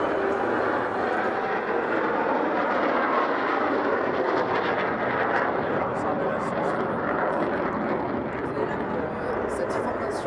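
Two Mirage 2000N jets of the Ramex Delta display team approaching in tight formation with landing gear down at an air show at Tours air base, a loud continuous roar under a commentator's voice.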